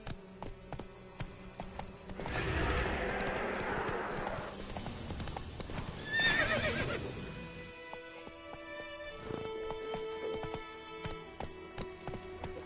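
Roach the horse gallops in The Witcher 3, with close, rapid clip-clop hoofbeats that swell into a dense burst, a whinny in the middle, then lighter scattered steps.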